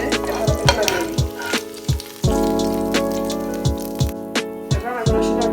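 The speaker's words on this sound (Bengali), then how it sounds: "এবার আমি রসুন আর পেঁয়াজকে হালকা একটু ব্রাউন কালার করে নেব।" Garlic and onion fry in a pan for a Bangladeshi amra tok, a soft sizzle broken by repeated clacks of a spatula against the pan, with steady background tones running underneath.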